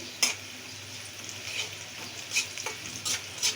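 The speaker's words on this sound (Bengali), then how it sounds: "এখন আমি এখানে একটা তেজপাতা দিয়ে দিচ্ছি" A bay leaf goes into hot oil with lightly browning onions in a pan, sizzling steadily while a spoon stirs, clinking and scraping against the metal several times.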